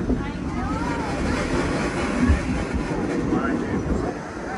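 An 1873 steam train called Torch Lake rumbles steadily as it pulls into the station at Greenfield Village, with a low continuous rolling noise and faint clatter under background chatter.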